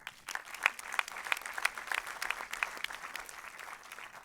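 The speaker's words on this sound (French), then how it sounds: "Là aussi, on peut les applaudir." A small crowd claps at the closing ceremony of the 2022 Saint-Jean-de-Luz International Film Festival, scattered and moderately loud at first, then thinning out and fading toward the end.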